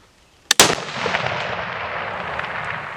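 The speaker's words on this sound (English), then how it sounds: "You can hear the primer hit, or the firing pin struck, and then the gun went off." A .300 Win Mag rifle fires at an outdoor range, a single loud, sharp close shot, with a faint click just before it, then a long rolling echo that fades slowly.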